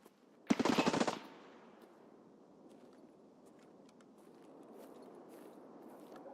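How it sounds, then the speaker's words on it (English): A burst of rapid automatic gunfire in the game Escape from Tarkov rattles out for about half a second, followed by faint, distant footsteps and rustling over a low ambient hum. "Hear that running? Running and shooting."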